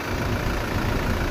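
A 2018 Toyota Hilux G 4x2 automatic idles smoothly, a steady low engine hum held close and even throughout with no voices.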